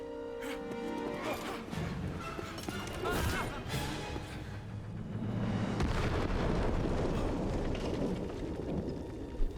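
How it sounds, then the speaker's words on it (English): Grenade blast in the game Indiana Jones and the Great Circle, a heavy rumbling explosion that swells and then trails off into a long roar of debris and crackle, with faint voices underneath. "Sound like a grenade."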